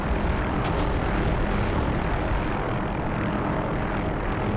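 OH-6A light helicopter engine and rotor in the DCS flight simulator, a loud steady turbine whine and rotor drone held throughout, with no pauses or talk.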